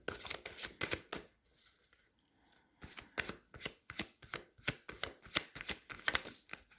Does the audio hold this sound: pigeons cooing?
no